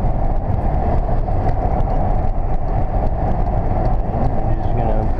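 A 1996 Lincoln Town Car limousine cruises steadily on a test drive, its interior filled with a constant low road and engine rumble that stays loud and even throughout.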